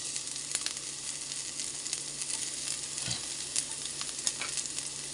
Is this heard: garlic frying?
yes